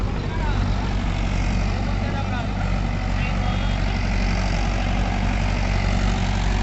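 Mahindra 575 and Sonalika tractors running together in a field, a loud continuous low diesel engine drone, steady and close, with engine noise masking any voices.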